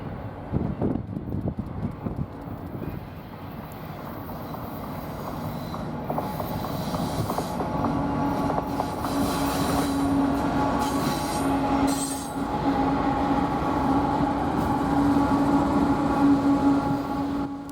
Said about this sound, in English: we see the daily Long Beach, California to Denver, Colorado Z train, taking the west leg of the Y south on the Greeley subdivision.